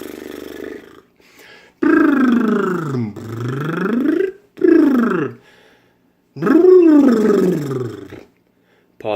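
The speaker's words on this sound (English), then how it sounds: "Lip rolls." Buzzing, pitch-sliding lip trills of a vocal warm-up in several separate bursts, each sweeping up and down, with short pauses between them, close and fairly loud.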